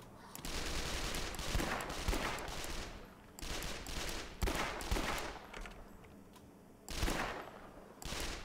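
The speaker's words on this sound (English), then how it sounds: "Disciplined sprays of gunfire!" Bursts of gunfire spray in The Last Stand Union City, a zombie shooter game, with several loud dense volleys separated by brief pauses, close and continuous within each burst.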